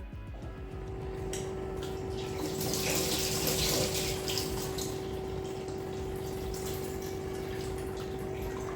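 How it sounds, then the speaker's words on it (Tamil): Foxtail millet and moong dal being washed in a pressure cooker under steady running tap water, a continuous close splashing rush with a faint tonal hum underneath and no voices. "இது 2த்தையும் குக்கரில் சேர்த்துட்டு 4-5 முறை நல்லா கழுவி எடுத்துக்கோங்க."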